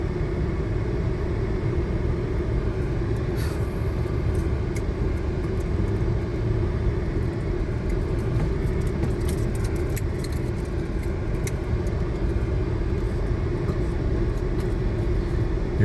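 A vehicle creeps along at about three miles an hour on a rough wilderness road, its low engine rumble steady and moderate throughout, with scattered light rattles and clinks from the cabin.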